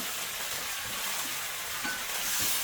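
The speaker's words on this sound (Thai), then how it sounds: "ผัดทุกอย่างให้เข้ากันให้หมดเลยครับ" Diced tomatoes and onion sizzle steadily as they are stir-fried in a pan for a Thai sweet and sour dish, with a continuous hiss broken by soft stirring scrapes.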